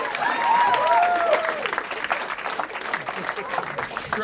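A live comedy podcast audience in Bloomington, Indiana, applauds and cheers in a steady wash of clapping, with voices and whoops mixed in.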